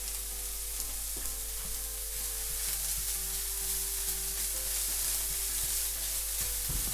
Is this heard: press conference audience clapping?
no